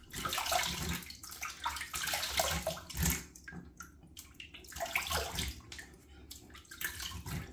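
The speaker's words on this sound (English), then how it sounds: "we're gonna rinse the face and we'll see if we need any pickups" Water splashing and trickling as a face is rinsed at a sink after a wet shave, with irregular bursts of splashing and running water, fairly close and steady, no talking.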